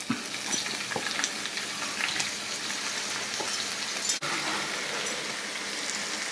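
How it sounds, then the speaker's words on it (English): Ground beef mince fries in hot olive oil in a pan, a dense steady sizzle with scattered pops and stirring scrapes, close and loud, with one sharp knock partway through. "I'm just going to drop that into our pan there that I've just got a little bit of olive oil heated up."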